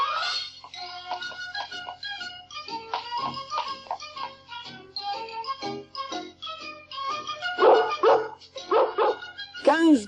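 Newborn Dalmatian puppies yipping, whimpering and barking in a dense, continuous chorus of high, squeaky little calls, close and lively, with voices mixed in.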